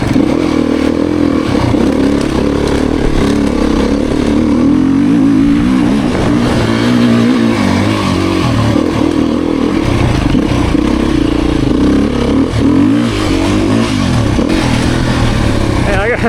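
A 2023 Beta Xtrainer dirt bike engine drones loudly and continuously while being ridden around a lap, with rising and falling revs, rattling clatter and wind noise close to the mic.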